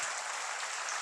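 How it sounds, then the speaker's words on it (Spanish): Church congregation clapping their hands, a brief, dense and even burst of applause that stays loud for about a second. "Si va a aplaudir a Dios, mi hermano, hágalo con fuerza"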